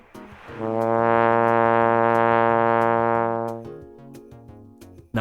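A single sustained beginner's note on a trombone, bright and buzzy with a steady pitch held for about three seconds before it stops.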